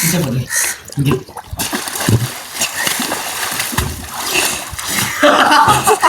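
A stone plunges into the water of a well used for summer swimming, heard as sharp splashes among sloshing water, with people talking loudly over and between the splashes.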